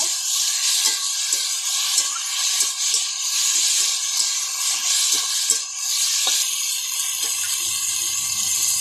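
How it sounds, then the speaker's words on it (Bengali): Fried potatoes and eggplant stirred into fried spices in a pan, a steady loud sizzle with a dense frying hiss throughout, broken by regular soft scraping knocks of the spoon, close up with no talking. "ভালো করে মশলার সাথে আমি আলু বেগুনটাকে মাখিয়ে নেব।"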